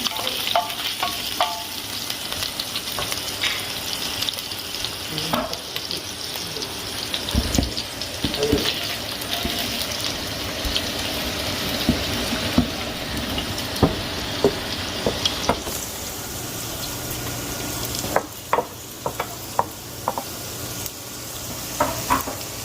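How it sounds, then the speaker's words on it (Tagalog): Garlic and onion sauté in a pan in a home kitchen, giving a continuous crackling sizzle. Intermittent utensil scrapes and clinks sound close by, with a tap-like water rush in places. "Nagigisa ako yung bawang sa sibuyas."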